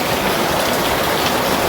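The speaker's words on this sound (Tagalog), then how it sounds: "Ayan, tinuloy na naman ng ulan." A constant, loud downpour pounds nearby surfaces during flooding, producing a thick, unbroken wash of raindrop noise.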